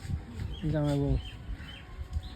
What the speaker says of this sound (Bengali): পাখিটা কি সুন্দর অন্য রকম না দুই দুটো আসছে